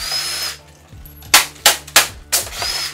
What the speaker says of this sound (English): I can use my drill.